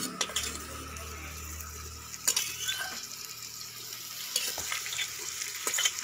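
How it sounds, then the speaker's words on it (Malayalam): Three to four onions sautéing in a pan during village-style cooking, a soft steady sizzle with occasional stirring scrapes and clinks, no talking. "ഇപ്പോൾ നമ്മൾ ചെയ്തുകൊണ്ടിരിക്കുന്നത് അവിടെ ഉള്ളി നല്ലതുപോലെ ഒരു 3-4 ഉള്ളി വഴറ്റിക്കൊണ്ടിരിക്കുകയാണ്"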